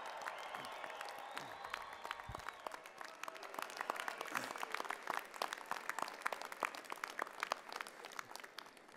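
Graduates at a University of Calgary convocation ceremony clap and cheer, a dense, sustained burst of applause with whoops rising from a large hall, fairly faint overall.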